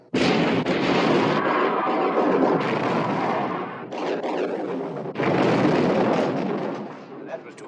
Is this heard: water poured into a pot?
no